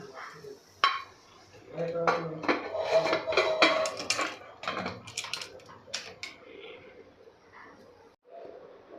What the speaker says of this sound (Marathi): आता इथे मी कुकरचं झाकण लावून घेणार आहे